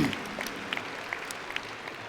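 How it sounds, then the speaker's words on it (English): Steady applause from a graduation commencement ceremony crowd, a dense wash of clapping that stays even and moderately loud throughout, with a few sharper claps standing out. "Let's give them a round of applause for that."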